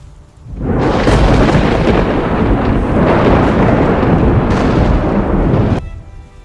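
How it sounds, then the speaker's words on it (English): A loud, sustained rumble of thunder during a prehistoric-setting thunderstorm, building quickly and rolling on for about five seconds before cutting off, with no voices over it. "The storm moves on"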